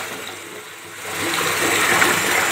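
Bath bomb balls fizz and bubble in bath water with a steady, hissing rush that swells louder partway through and holds, close to the listener, with no talk over it.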